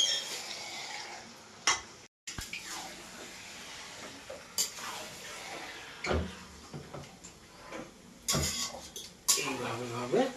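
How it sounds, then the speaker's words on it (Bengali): Goat meat frying in a pan and stirred slowly with a bent spatula, making scattered metallic clanks and scrapes at irregular intervals, with a voice speaking now and then. "খুব আস্তে আস্তে চালাবো।"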